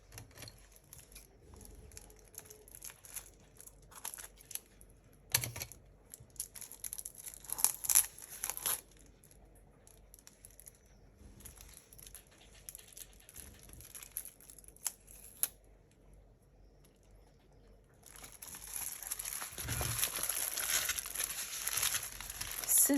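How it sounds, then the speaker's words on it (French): Adhesive tape is peeled off a diamond painting canvas, giving faint, intermittent crinkling and tearing rustles with a few sharp snaps, then a louder, sustained ripping rustle near the end. "faut que j'arrive juste à enlever le scotch"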